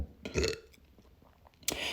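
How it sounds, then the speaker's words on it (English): A single short, throaty burp sounds close up, followed by quiet rustling and a brief sharp noise at the end. "See how I just burped"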